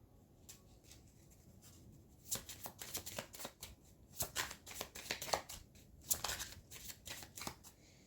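Tarot cards being shuffled during a card reading, a run of crisp riffling and slapping bursts that start soft and grow denser and louder, close up, with no talking.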